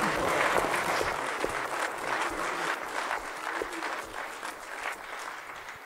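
A church congregation at a revival service claps together, a fairly faint, continuous patter of many hands that gradually thins toward the end.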